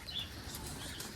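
Pigeon wings flap in a quick flurry, close by and steady for a moment, with no voices.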